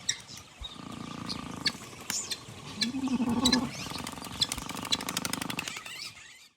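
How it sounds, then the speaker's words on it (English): Low rough rasping breaths repeat faintly amid outdoor ambience with scattered clicks and bird chirps, a wild animal snoring while asleep near a waterhole in South Luangwa, Zambia. "this one is asleep, and it's snoring"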